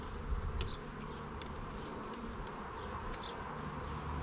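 Honey bees buzz steadily around a hive, a dense continuous drone with individual insects passing close now and then, heard alone without voices.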